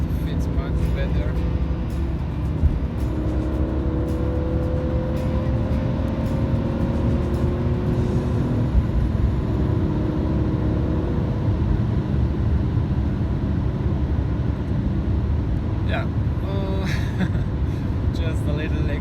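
BMW E46 M3 accelerating gently from the cabin, with a steady low engine drone and rising engine tones mid-clip under someone talking.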